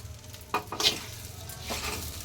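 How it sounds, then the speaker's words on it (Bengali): Sago pilaf with tomato is stirred in a sizzling pan: a few quiet scraping strokes stand out over a low, faint frying hiss. "নাড়া দাও।"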